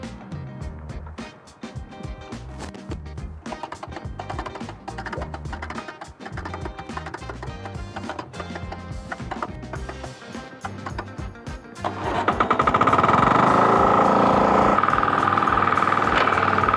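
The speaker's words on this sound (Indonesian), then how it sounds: "Kita akan nyalakan terlebih dahulu FTL 720D" An FTL720D cultivator rotary tiller engine in a weedy field catches about twelve seconds in and settles into a loud, steady, broadband running roar, following a stretch of rhythmic, music-like sound.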